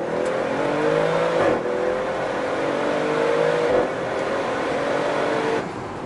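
Audi RS6 Performance driven hard on a highway at full throttle, its engine note climbing steadily in long pulls with brief dips at gear changes, loud and close from inside the car, no talking.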